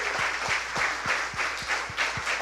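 Church congregation applauding during a sermon, a steady wash of clapping hands with a few louder rhythmic accents, moderately close and without talk.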